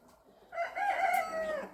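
A village rooster gives one clear crow, close by and fairly loud, rising and holding for about a second after a quiet start.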